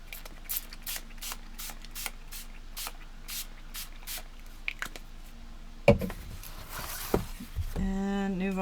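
A bottle of Nuvo Mica Mist spray stain pumps out a quick run of a dozen or so short, sharp spritzes at a steady rhythm, followed by a louder burst, some rustling, and a brief voice near the end.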